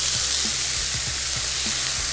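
Oil poured over fish or other food in a pan sizzles and fries with a steady, dense hiss, close and continuous, with soft scattered pops and stirring clicks beneath.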